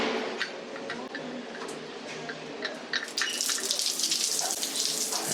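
Water runs steadily from a rinse-off shower at a beach restaurant in Puerto Vallarta. The even splashing hiss grows a little louder partway through, with faint ticking drips mixed in.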